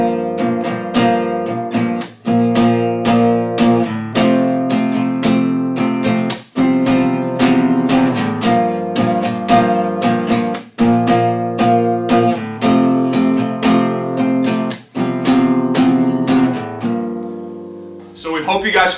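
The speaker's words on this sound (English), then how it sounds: "now we're going to run through the entire progression, the 4 chords right now. It's going to sound something like this." Guitar strums through the four-chord progression of a song, loud and close, with rhythmic strummed chords in repeating sections and brief pauses between phrases, ringing out at the end with no talking.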